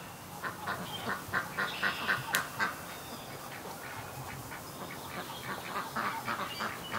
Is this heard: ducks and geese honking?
yes